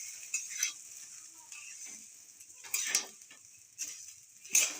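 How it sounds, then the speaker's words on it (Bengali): Puffed rice mixed with fried ingredients is stirred in a pan, giving soft intermittent scraping strokes with a faint sizzle. Quiet and close, with no voices. "মুড়ির সাথে সব ভাজাগুলো খুব ভালোভাবে মেশাতে হবে, আর একদম ভালো করে ভেজে নিতে হবে।"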